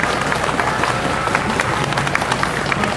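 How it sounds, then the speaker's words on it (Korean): A large congregation at a final outdoor Catholic Mass at the Yongsan protest site breaks into sustained applause, a dense, even roar of many hands clapping close by throughout. "여러분 큰 박수로 서로 격려해 주시고 축하해 주시면 고맙겠습니다"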